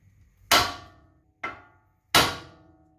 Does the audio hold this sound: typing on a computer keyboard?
no